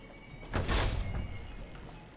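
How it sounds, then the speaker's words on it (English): A door sliding open in the game Fallout: New Vegas, in Vault 21: a single heavy mechanical whoosh and thunk that fades into a low hum. "Oh, I guess it's this door?"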